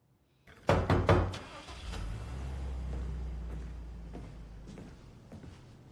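Several quick, close knocks rap on a house door in a drama scene, then a low rumble like a car idling in the driveway carries on underneath.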